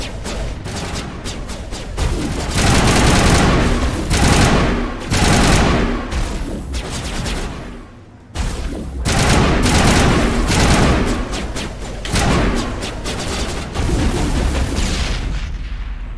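Sustained bursts of gunfire in the sci-fi shooter Mass Effect Legendary Edition, loud and dense volleys of rapid shots with heavy booms, breaking off briefly midway before resuming.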